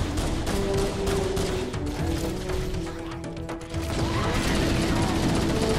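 Mechanical clicks and ratcheting of a weapon reload in Halo: Combat Evolved, layered with busy gunfire and game noise throughout, loud and continuous.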